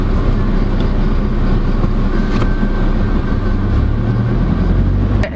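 A 2022 Maxus T60 pickup driving in power mode, a steady loud engine drone and road rumble from inside the cab, continuous and even, with no talking.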